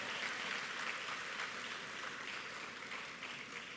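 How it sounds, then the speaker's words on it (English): A graduation audience applauds for the university president, a broad wash of crowd clapping that stays steady and fairly even, heard somewhat distant through a live feed. "All right, put your hands together again for your president, Mr. Dukram."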